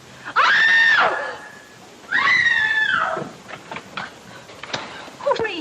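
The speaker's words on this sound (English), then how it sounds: "What's all the racket? Pounding on walls, scream?" A woman in a 1944 horror film lets out two long, shrill screams, loud and close, followed by softer scattered knocks and movement noises.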